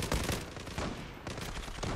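Gunfire in the online shooter Zula, a dense, continuous run of rapid shots at a steady level with no pauses, filling the whole stretch.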